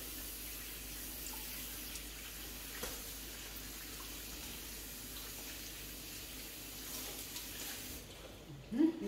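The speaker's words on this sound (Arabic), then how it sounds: "هنا نغسل الفروي ديالي" Tap water runs steadily at moderate distance while a fur garment is washed, a continuous hiss with faint splashes and a brief louder clatter at the end.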